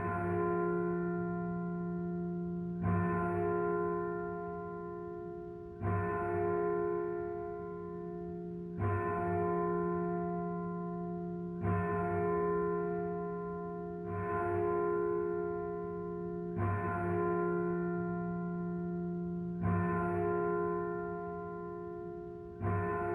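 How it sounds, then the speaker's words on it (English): A church bell striking twelve tolls in slow, evenly spaced strokes about three seconds apart, each deep clang ringing on and fading into the next, with no voices. "the bell struck 12."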